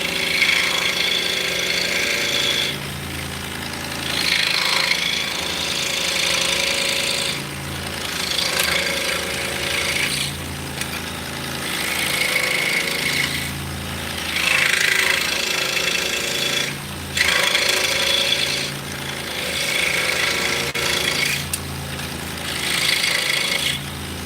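A saw cuts wood for drop spindles in a run of repeated rough cutting bursts, each a few seconds long with brief pauses between, over a steady low hum.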